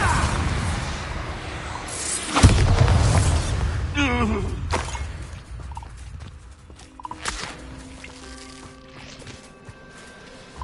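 The Bombarda blasting spell goes off in Hogwarts Legacy as one sudden loud blast at about the two-and-a-half-second mark. It fades into a rumbling decay mixed with other game effects and background music.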